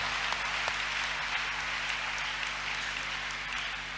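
A congregation claps during a church service, a continuous moderate patter of many hands under a faint steady hum, with no speech.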